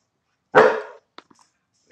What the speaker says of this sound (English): Stop all that barking.